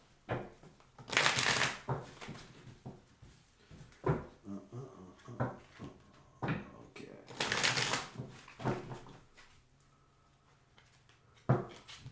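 Playing cards are shuffled in several quick riffling bursts, with soft handling rustles and pauses in between.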